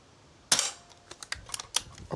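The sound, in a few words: shot from an S400 air rifle at a paddle target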